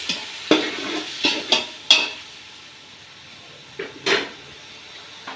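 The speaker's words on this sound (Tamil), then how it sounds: "இஞ்சி பூண்டு பேஸ்ட்டு, நல்லா மிக்ஸ் பண்ணிவிட்டு" Ginger garlic paste with onions in a pan for prawn biryani, stirred in a few sharp scraping strokes that clatter against the metal over a faint, low sizzle, with short pauses between strokes.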